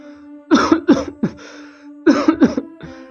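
A man coughs painfully in a narrated Amharic audiobook, two harsh clusters of three or four close, loud coughs separated by a short pause, over a faint steady hum.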